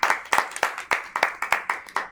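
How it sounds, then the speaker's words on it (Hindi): An audience at a Hindi poetry gathering gives a poet a short burst of scattered applause, about nine distinct claps in an uneven rhythm, fairly close and moderately loud, with no talk over it. "संगीता जी के लिए जोरदार ताली"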